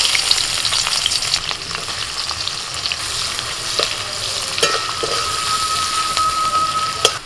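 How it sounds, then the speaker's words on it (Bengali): Chopped onion dropped into hot oil, left over from frying a pond silver carp, sizzles and crackles steadily and loudly close by, with a few sharper pops and stirring scrapes and no talking. "ওই তেলের মধ্যে দিয়ে দিচ্ছি পেঁয়াজ কুচি"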